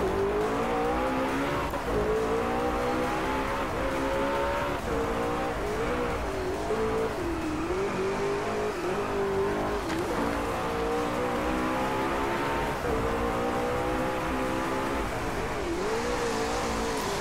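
A car engine in the Driveclub racing game revs hard and steadily throughout, its pitch rising and falling through gear changes with no pauses and no talk over it.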